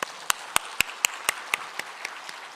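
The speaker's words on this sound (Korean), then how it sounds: "하나님께 감사의 박수 한번 하십시다." Applause from a church congregation during a Sunday worship service, heard as about ten crisp, evenly spaced claps that gradually weaken and fade out.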